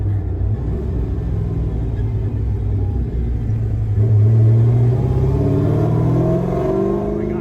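Deep, loud rumble of a Camaro with a freshly built forged 6.0 V8 and a loud muffler, the engine pulling and rising in pitch as it accelerates, heard from inside the car with no talk.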